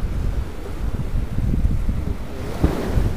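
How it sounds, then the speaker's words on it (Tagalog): Waves slap and wash against a small boat at close range, a rough, continuous surging churn with heavy wind buffeting the microphone. "Oh, hinahampas ng alon eh."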